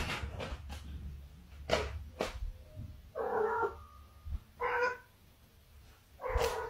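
A cat gives several drawn-out meows and yowls, loud and close, in three main bursts separated by short pauses, with a few sharp knocks and thumps early on.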